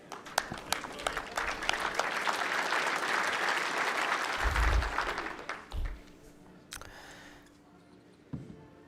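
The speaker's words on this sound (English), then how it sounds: "Good appreciative crowd in this morning, showing their support for both of these ladies" An indoor crowd at a bowls championship applauds, with dense, sustained clapping that swells and then thins out into a few scattered claps.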